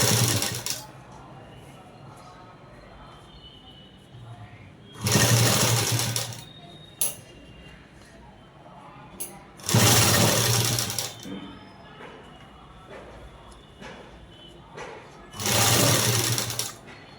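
A sewing machine stitches cloth for a collar-neck dress in three loud bursts of rapid whirring, each lasting a second or two, with quieter handling sounds between them.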